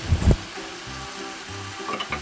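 Red chilli goes into a pan of anchovies and chives in a simmering glaze, with a brief clatter of stirring over a low, soft bubbling sizzle.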